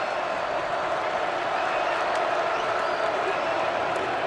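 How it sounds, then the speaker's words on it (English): Split crowd of Georgia and Florida football fans at a stadium, a constant broad roar of cheering and murmur with broadcast commentary running over it. "This is the first time we've had a split crowd, so you can actually hear some of the noise"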